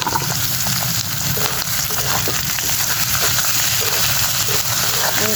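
Red amaranth greens and shrimp frying in a pan give a loud, steady sizzle with occasional stirring scrapes, continuous throughout with no talking.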